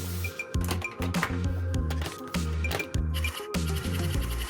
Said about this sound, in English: Next, I added a motor to run the sticker peeler mechanism.